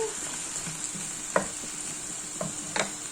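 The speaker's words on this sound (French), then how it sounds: "Je vais remuer." Zucchini with added spices being stirred in a pan, a soft continuous sizzle with a few scraping strokes of the spoon, close and fairly quiet, with no talking.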